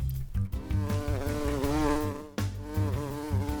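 A housefly sound effect in a children's story: a continuous, wavering buzz that rises and dips in pitch, heard over a steady rhythmic music bed.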